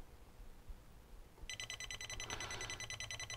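A faint, rapid electronic beeping from an FNIRSI GC-01 radiation detector alarm starts partway through and repeats steadily over a low hum.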